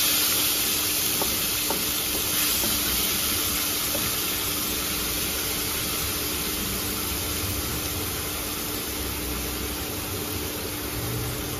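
Ginger and green chili paste sizzling in hot oil on an induction cooktop, a steady, dense hiss that holds evenly throughout with no talking.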